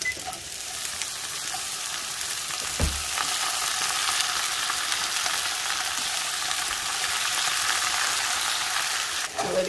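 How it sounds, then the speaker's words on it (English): Napa cabbage frying in bacon oil in a home pan, a loud, dense, continuous sizzle like heavy rain that holds steady for several seconds after one soft knock, with no voices. "I added a little bit more of the bacon oil. And we're gonna throw the cabbage in."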